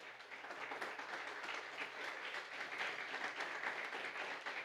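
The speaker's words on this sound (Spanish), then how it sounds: "Den un aplauso al Rey" A church congregation applauds during a sermon, a faint, distant, continuous patter of many hands.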